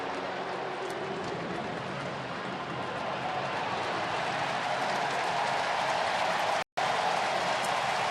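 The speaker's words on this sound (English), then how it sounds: "A big round of applause out on the big screen in left field" A baseball stadium crowd at a Milwaukee at Cincinnati game applauds in a dense, steady roar of clapping that fills the whole stretch with a brief cut near the end.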